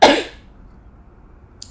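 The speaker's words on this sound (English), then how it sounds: "I'm going to sneeze." A single loud sneeze bursts out at the start and fades within a fraction of a second, followed by near silence and a faint click at the end.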